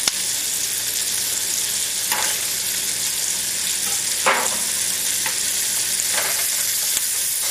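Chili, garlic and ginger sizzle steadily in hot oil for a curry sauce, with a few sharp scraping stirs of the pan cutting through the constant close frying hiss.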